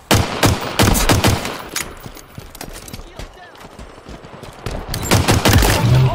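Rapid automatic gunfire from Halo Infinite multiplayer combat, loud bursts of shots crackling in dense volleys at the start and end with a thinner stretch of scattered shots in the middle.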